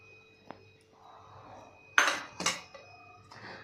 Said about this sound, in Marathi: गरम आहे तोपर्यंत आपल्याला चमच्यानेच मिक्स करायचं आहे